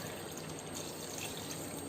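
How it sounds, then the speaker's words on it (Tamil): A cup of water poured into a pot of mutton biryani, a steady faint splashing pour that runs evenly throughout with no voices. "இப்போ இதில் ஒரு கப் தண்ணி வந்து நம்ம ஆட் பண்ணிக்கலாம்."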